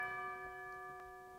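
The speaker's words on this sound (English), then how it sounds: "you can't have a Christmas track without a couple of things. One of them being Tubular Bells." Tubular bells ring in a pop Christmas music track, with a sustained bright chime fading slowly and a soft second strike partway through, alone without voices.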